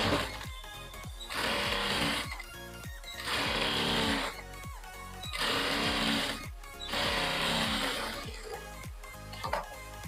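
A sewing machine stitches a blouse strip in four bursts of fast, steady whirring and needle chatter, close and fairly loud, with short pauses between runs.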